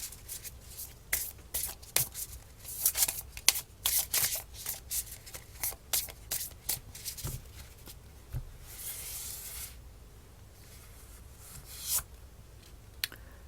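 Tarot cards shuffle close to the microphone in quick bursts of riffling and sliding, with a few soft taps, a brief pause and a final flutter.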